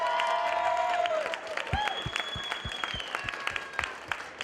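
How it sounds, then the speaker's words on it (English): An audience at a Texas public gathering claps in a sustained burst of applause that fades after about a second, leaving scattered individual claps and a held tone over the remaining seconds. "give the Austin DPS a good hand, a round of applause for being here today"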